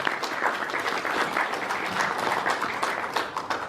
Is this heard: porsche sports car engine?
no